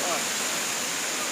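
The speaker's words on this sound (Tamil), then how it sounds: "மேலேருந்து தண்ணி வருது" At Kiliyur Falls, water pours down from above in a constant, close, roaring rush of broadband noise that holds steady without pause for the whole moment.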